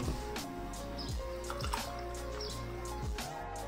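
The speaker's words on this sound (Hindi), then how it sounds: "और इसके साथ ही मैं डाल दूंगी पानी" Water is poured into a glass of jamun sherbet made from black plum, giving a bright trickling and splashing with small drips and clinks, close by and without talk.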